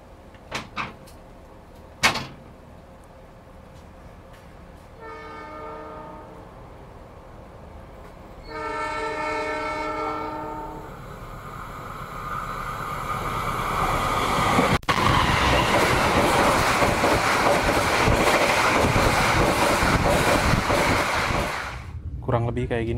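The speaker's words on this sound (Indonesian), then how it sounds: "Jadi nanti harusnya Argo Wilis ngebut banget" An Argo Wilis passenger train rushes past at speed on a line cleared for 120 km/h, a horn-like tonal burst sounding before a loud, broad roar of wheels and wind that builds and holds, then cuts off abruptly.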